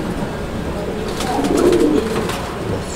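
Pigeons, including a black Bombay pigeon, cooing at a bird sale: a low, rounded coo swells near the middle over a noisy background with faint talk.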